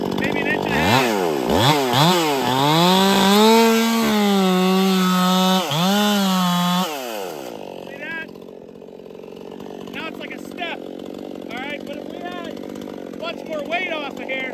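A ported Stihl MS 261 chainsaw bucks hickory, its engine revving and bogging in loud surging waves as the chain bites the log, then dropping to a lower idle with a few brief blips.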